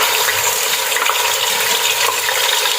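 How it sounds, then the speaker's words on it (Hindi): Meat fries in hot oil with garlic-ginger paste in a pot, giving a loud, continuous bright sizzle with occasional crackles and no talking. "इसमें गोश्त फ्राई होगा।"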